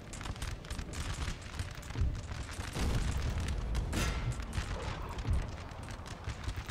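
Musket volleys from line infantry in a Napoleon: Total War battle crackle in dense, ragged bursts, with heavier booms rolling through at intervals over a constant din of distant gunfire.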